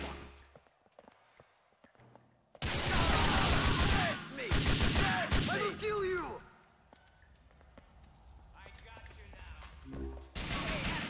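Gunfire aimed at the player in Grand Theft Auto IV. Loud, dense bursts of shots fill several seconds, followed by a quieter stretch and a final volley, with a voice heard among the game sounds.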